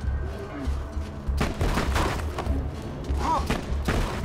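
Gunfire in Borderlands 2 as a player shoots at Bullymong rocks: a burst of sharp, booming shots and thuds with a dense volley in the middle, over steady game background.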